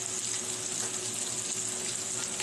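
Vegetables and bacon frying in a pan for a Denver sandwich, a steady, close, even sizzling hiss that holds without a break.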